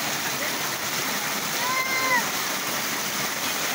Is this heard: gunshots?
no